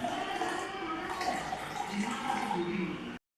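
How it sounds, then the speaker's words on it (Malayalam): Butterfly pea flower water, boiled with sugar, is poured into a glass, making a steady, close trickling and gurgling pour that runs about three seconds before stopping abruptly. "ഇത് നമുക്ക് ഈ ഗ്ലാസ്സിലോട്ട് ഒഴിക്കാം."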